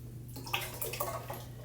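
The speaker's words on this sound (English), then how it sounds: "I'm going to put the water," Water pours and splashes briefly into a mixing bowl for brioche dough, soft trickling and drips over a low steady hum, fairly quiet.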